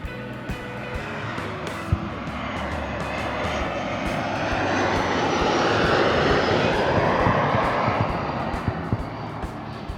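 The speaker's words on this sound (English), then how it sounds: "mandatory plane break" An airplane passes overhead, its engine roar building gradually to a broad peak around the middle and then slowly fading, fairly loud and continuous with no talking.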